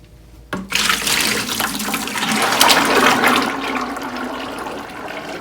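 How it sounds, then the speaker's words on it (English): Thick olive oil castile soap batter pours and splashes into a bucket, a sudden loud gush that settles into a continuous sloshing, trickling flow, with no talk. "So we're going to take this and we're going to dump it into our bucket."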